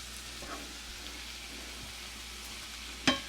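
Garlic and onion frying quietly in a pan before ground beef and mushrooms go in, a faint steady sizzle with a sharp clink of a utensil against the pan near the end; no talking.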